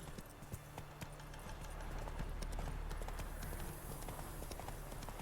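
Horse hooves clip-clopping at a gallop in the video game The Witcher 3, a brisk continuous rhythm of hoofbeats running throughout, fairly close and steady.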